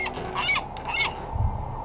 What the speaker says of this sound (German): Das ist die Möwe, die meine Perle gestohlen hat.